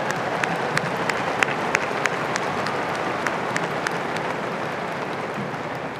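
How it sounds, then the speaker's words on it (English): A large crowd claps steadily at a spring university commencement ceremony at the University of Hawaii at Manoa. The dense, even applause holds at one level throughout, with a few sharper individual claps standing out. "Let's have another round of applause for Ms. Kwok."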